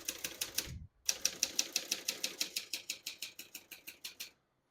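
Typewriter keys struck on a 1966 Hermes 3000 portable typewriter in a steady run of crisp, evenly spaced clacks, broken by one short pause after the first few strokes, close and clear with no talk.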